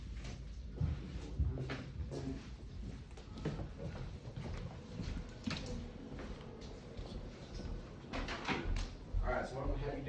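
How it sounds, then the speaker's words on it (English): An indoor room door is pushed shut, its knocks and thuds mixed in with ongoing nearby speech and shuffling movement. "I'll just shut this door."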